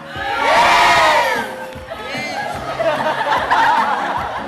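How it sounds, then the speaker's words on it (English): A crowd of people screams and cheers loudly in a burst, with high shrill voices rising and falling over about four seconds, mixed with some shouting. "Easy with the screaming."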